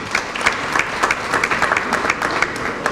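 An audience at a book signing for a novel breaks into steady applause, a dense, even patter of many hands clapping that carries on throughout without voices.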